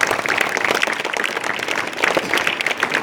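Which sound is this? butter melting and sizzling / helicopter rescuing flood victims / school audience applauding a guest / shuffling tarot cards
school audience applauding a guest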